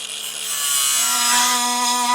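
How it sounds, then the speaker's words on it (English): An oscillating multi-tool cuts through two layers of metal in a tight spot on a 2016 Jeep during a tow base plate install, producing a loud, steady, close buzzing whine that holds throughout. "then I'll most likely move on to a multi-tool just because it's in a tight spot"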